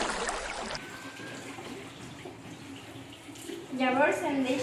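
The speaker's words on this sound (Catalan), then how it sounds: "Llavors em deixo l'aixeta oberta." Water runs from an open tap in a steady, soft hissing stream, and a voice speaks near the end.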